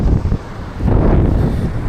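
Strong wind buffets the microphone in loud, continuous gusts, a rumbling roar with no voices, on a coast where a small fishing boat is kept ashore.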